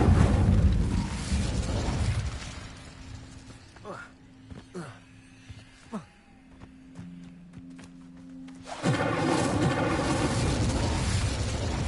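A fire spell going off in the PS5 game Hogwarts Legacy: a loud, dense whooshing burst at the start, quieter effects and ringing tones in the middle, then another broad roaring burst near the end.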